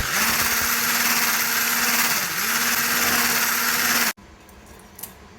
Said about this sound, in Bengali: আমি হ্যান্ড ব্লেন্ডার দিয়ে ভালো করে মাখিয়ে নিচ্ছি